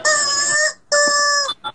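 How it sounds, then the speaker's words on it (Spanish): A rooster crows twice in close succession, each call a long, loud, harmonic cry, heard up close with no talking. "Es un gallo, mira, huepa."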